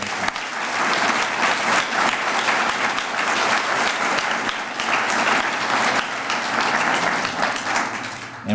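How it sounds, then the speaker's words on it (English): Sustained applause from a large crowd at a police swearing-in ceremony, steady and fairly loud throughout with no voices standing out. "I'd like to give another round of applause to that class"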